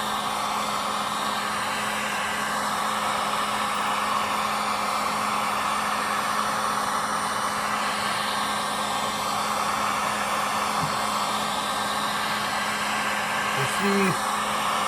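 A heat gun blows steadily on a Stihl 046 chainsaw part during a bottom-end rebuild, a constant close hiss and whine lasting throughout with a couple of brief clicks near the end.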